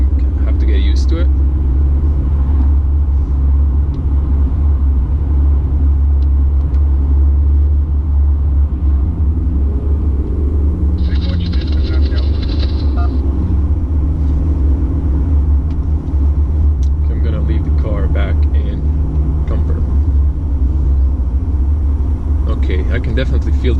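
A 2019 facelift Mercedes C-Class 220d diesel cruising on Croatian roads, heard from inside as a loud, constant low engine and road rumble with brief higher whooshes from passing traffic, without speech.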